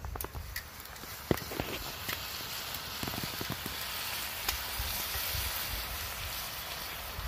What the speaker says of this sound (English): This is mushrooms and onions, and they're caramelizing right now.